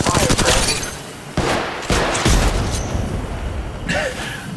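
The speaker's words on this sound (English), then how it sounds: "Getting shot." Gunfire in the Apex Legends mobile game, loud bursts of shots and impacts with booming hits mixed into continuous game noise, fairly close.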